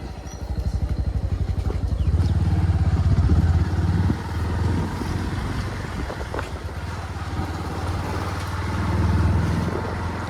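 A motorcycle on a 75-kilometre ride to Piyali Island in the rainy season bumps along a bad road, its engine droning loud and steady with rattling and rumbling throughout.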